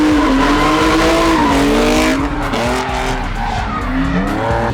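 Drift cars slide around at a season-opening drift event in Šiauliai, with loud continuous tire squeal and skidding over roaring engines, the squeal wavering in pitch throughout.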